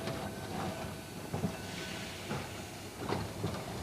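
An old Blackpool tram rolls along its rails with a low steady rumble, broken by a few rhythmic clacks and thumps as the wheels cross joints.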